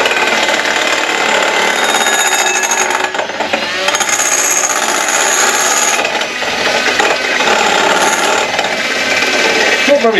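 An electric mixer whirs continuously, loud and close, as it mixes batter for toad in the hole, with a brief dip in the motor's whine midway.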